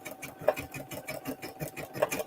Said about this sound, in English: while your designs are stitching